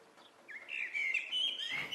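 A small bird chirping outdoors in the morning, a run of bright, high tweets that grows louder and continues steadily for about two seconds with no other sounds.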